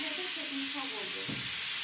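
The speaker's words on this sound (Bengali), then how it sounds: "এখন ডিম পাতায় দিচ্ছি দেখো সাজানো দেখে" Eggs fry on a leaf beside a street, giving a steady bright hiss of sizzling oil close by, with a few faint murmurs of background voices and a low knock near the end.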